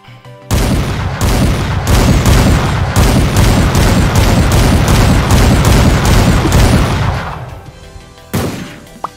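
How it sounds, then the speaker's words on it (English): Rapid, loud gunshot-like punch impacts from Ippo's Dempsey Roll in the Roblox game Anime Showdown, firing in a dense continuous barrage for about eight seconds, then a brief pause and one last hit. "They're basically gunshot sounds every time he punches someone."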